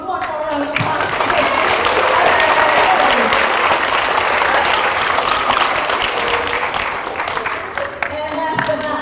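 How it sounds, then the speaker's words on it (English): Sustained applause from a crowd at a school character education assembly, dense steady clapping filling the whole stretch with a few voices faintly mixed in. "let's give them one more round of applause"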